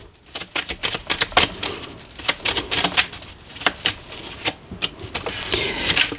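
Cards are cut and drawn from a deck, giving quick crisp flicks and riffling snaps in an irregular run, close and fairly loud, with no talk.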